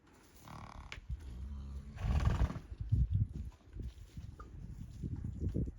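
Horses at a stable, a close snorting whinny with restless movement and thumping hooves, followed by irregular bumps and shuffling sounds.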